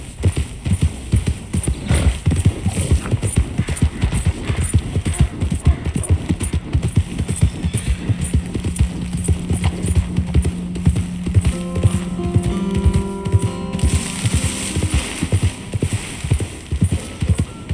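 Horse hooves clip-clop in a rapid, steady rhythm in Red Dead Redemption 2, moderately close, with light background game ambience and a brief tonal sound near the end.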